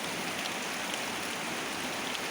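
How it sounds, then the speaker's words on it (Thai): Steady, soft hiss of rain falling, a continuous even wash of noise with no voices, fairly faint throughout. "ปีนี้ฝนมาไว"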